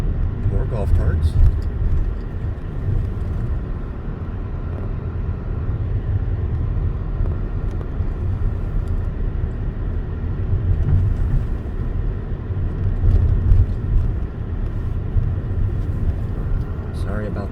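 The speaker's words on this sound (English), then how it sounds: "More golf carts." Golf carts and other traffic roll along Las Olas Boulevard in downtown Fort Lauderdale, heard as a steady low road rumble and engine hum from inside a moving car, continuous and fairly loud throughout.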